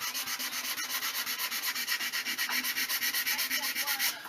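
Sandpaper rubs over a wooden .410 shotgun stock in quick, even back-and-forth strokes, a close, steady rhythmic scratching of roughly six strokes a second with no talk.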